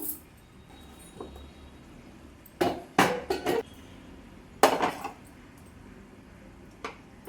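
A pot of fish curry is shifted on a stove, giving a few scattered metallic clanks and scrapes in quick clusters against a quiet kitchen background.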